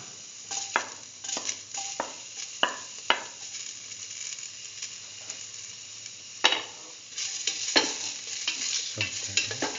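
Shallot pieces and a spice mixture sautéing in a pan for curried mustard chicken, a steady close sizzle punctuated by sharp spatula scrapes and knocks at irregular intervals, with no voices.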